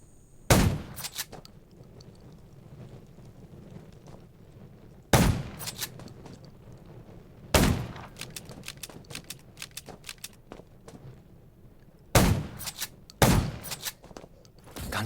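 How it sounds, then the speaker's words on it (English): Gunfire in the survival game Undawn: several sharp, loud shots and short bursts at irregular intervals over a low, steady background rumble. "Gunshot."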